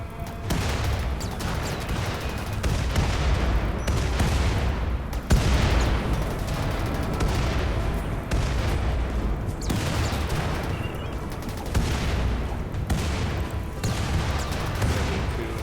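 Artillery fire in the colony-building video game Rimworld, a dense, continuous barrage of booms and rattling shots that rolls on steadily at full loudness throughout, with no speech.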